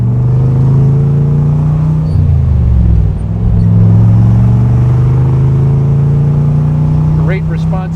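A 1965 Chevrolet Corvette convertible with an L79 327 V8 and 4-speed rumbles loudly through its side pipes, a steady deep exhaust drone that dips briefly as it shifts and then resumes, close and constant throughout.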